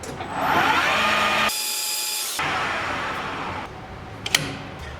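A lathe spinning up for a test run with a brass workpiece held by a live center, a steady motor whine with a rising tone that cuts out and restarts, then a couple of sharp clicks near the end.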